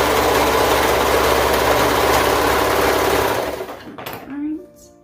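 A sewing machine runs steadily while stitching a fabric waist seam on a peplum top, a loud continuous whir that cuts off near the end, leaving brief quieter handling noises.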